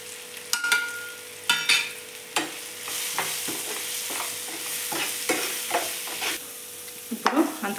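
Spices fry in a pan while a spoon stirs and scrapes them, giving repeated sharp scraping knocks over a steady sizzle, close and fairly loud with no voices.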